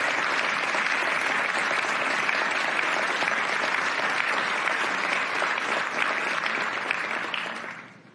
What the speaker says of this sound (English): Une bonne main d'applaudissements pour notre personnel dans les écoles.